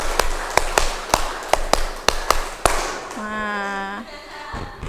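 A classroom group of teachers in training claps in a quick, even rhythm of sharp, crisp claps. A voice speaks briefly after the claps stop.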